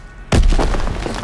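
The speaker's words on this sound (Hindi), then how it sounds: "ग्रेनेड" A grenade explosion in the Call of Duty WW2 D-Day battle hits as a single sudden loud boom after a short quiet lead-in, followed by a rumbling, crackling tail of battle noise that slowly fades.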